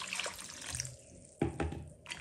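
Ingredients are rinsed and rubbed by hand in clear water, giving close splashing and swishing with a couple of sharper sloshes midway, and no talking.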